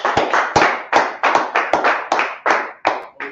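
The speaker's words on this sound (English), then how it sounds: "clap it up for the class" An audience claps for a class: a run of loud, close handclaps in an uneven rhythm, each sharp strike fading quickly, with no talking.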